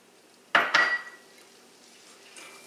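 Butter and flour stirred together in a pan, a spoon or whisk clattering against the metal in a short burst of scraping knocks, then a faint continuing scrape.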